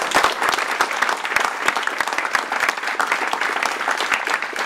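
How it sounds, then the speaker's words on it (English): Applause for panelists at a music, brands and technology conference, a full crowd clapping continuously with sharp individual hand claps close by over the dense patter. "if everyone could give the panelists a big round of applause"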